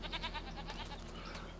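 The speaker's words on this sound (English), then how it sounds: "Oh, I have goats and sheep." Goats bleat repeatedly in Farming Simulator 25, a string of wavering nasal cries close by over a low ambient drone, with no talking.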